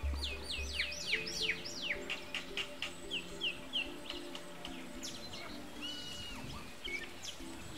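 Mynas nesting in an old woodpecker hole in a tree give a busy series of chirps, whistles and chattering calls, fairly close and varied, over quiet outdoor background.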